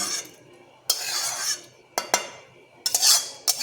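Raita of yogurt with cucumber, carrot and fried curry leaves being stirred in a bowl, several short bursts of wet scraping and spoon clinks separated by brief pauses, close and fairly quiet.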